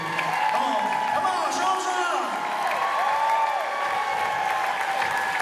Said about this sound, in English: Give every single one of them a round of applause